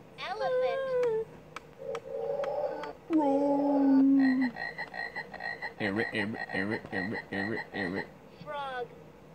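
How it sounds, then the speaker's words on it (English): Frog croaks come as a quick run of rhythmic, pulsing calls after some squeaky, whining animal-like sounds, all loud and close. "Frog."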